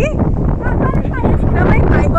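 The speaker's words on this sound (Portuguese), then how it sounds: "Agora aqui tá ventando muito, minha gente, hoje." Strong wind gusts buffet the microphone at a home in Brazil, a loud, rough continuous roar as people talk over it.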